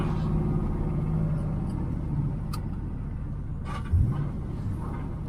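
A 1979 Pontiac Firebird Trans Am with a 6.6 big block engine and a faulty exhaust idles with a deep, steady rumble, with a few ticks and a brief louder burst near the end.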